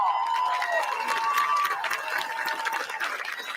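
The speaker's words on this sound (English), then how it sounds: "So that roaring of an applause that you just gave me, please give it to these folks. Standing ovation and all." A crowd at a hospital ribbon-cutting ceremony gives a sustained, roaring round of applause with cheering, dense and steady throughout the whole stretch.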